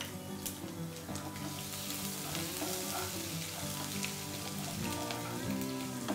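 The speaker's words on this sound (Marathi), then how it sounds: "आता आपण आलं टाकूया किसलेलं स्वादाकरता." Grated ginger tipped into dal sizzling in a pan for coconut rice, a constant crackling fry under a steady tonal hum, moderately quiet, with no talking.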